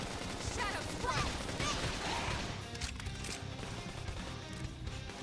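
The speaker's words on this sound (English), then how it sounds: "There's gonna be a lot of fire, like gunfire here." Gunfire and impact bursts in an action video game fill the scene as a dense, continuous clatter of shots and crashes, loudest at first and then thinning slightly, with faint voices underneath.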